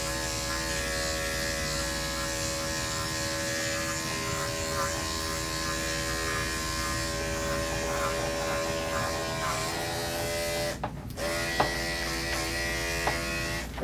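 Electric clippers buzz steadily and close up while trimming a Shih Tzu's coat, a continuous even drone running the whole time with a few brief clicks near the end.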